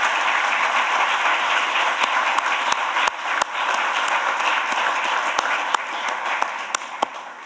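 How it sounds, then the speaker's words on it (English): A large summit audience applauds at length, a broad, even wash of clapping from many hands filling a big hall, with a few sharper individual claps or knocks popping out above the steady roar. "Yes, please give them a round of applause."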